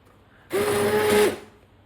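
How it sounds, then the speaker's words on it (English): A stick blender whirs through pumpkin soup for a second or so, a steady high buzzing whine that starts and stops abruptly, close and fairly loud, with no talk over it. "So now it's time to get the stick blender onto this."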